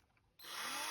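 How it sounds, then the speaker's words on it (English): A high-speed cutter, a power tool used while building a Camaro, starts abruptly after a quiet moment and holds a loud, close, high whirring whine to the end. "High-speed cutter."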